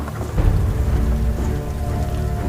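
Heavy rain pours in a dark, dense thicket in a horror story, a loud, continuous rushing hiss with a low rumbling undertone.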